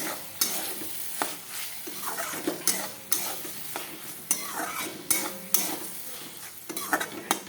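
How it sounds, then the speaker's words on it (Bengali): Rice fries in a pan with steady sizzling while a utensil stirs and scrapes it in regular strokes, close and alone without talk. "চালটা ভাজা ভাজা হলে একটু জল রেখেছি"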